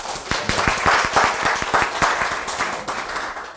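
Audience applause at a church lecture fills the room with steady, dense clapping, individual sharp claps standing out near the front over a broad wash of hands, with no talk.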